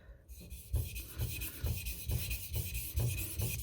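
Steady back-and-forth rasping of a Swedish steel blade across a synthetic whetstone, rhythmic gritty strokes roughly every half second, close and fairly quiet with no talking.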